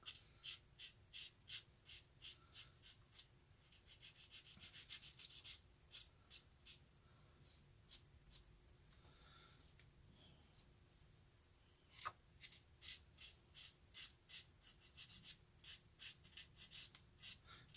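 Flory Models sanding sticks rub in quick, rhythmic bursts of short strokes across a 1964 Ford Galaxie Tiny Lund NASCAR scale model kit, close and crisp, with brief pauses between runs and no talking.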